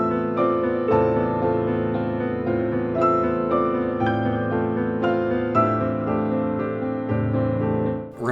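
Final boss theme from Dark Souls 1: slow, sustained orchestral music with rich layered chords changing every second or so, steady and fairly loud throughout, no voices.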